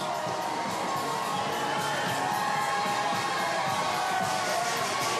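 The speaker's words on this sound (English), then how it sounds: "They're just screaming at the top of their lungs." A Mardi Gras parade crowd for the Order of Myths in Mobile, 2020, roars continuously, a dense wash of screaming and cheering voices that stays loud and unbroken throughout.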